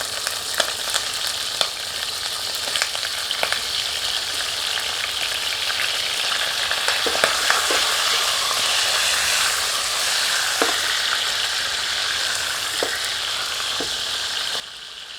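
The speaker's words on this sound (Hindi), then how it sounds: "अब एक बर्तन में एक करछी देसी घी गर्म करते हैं। इस घी में मुर्ग के टुकड़ों को थोड़ा तलते हैं" Chicken pieces frying in desi ghee in a pot over medium heat, a loud continuous sizzle with scattered pops and crackles and occasional stirring clinks, steady throughout.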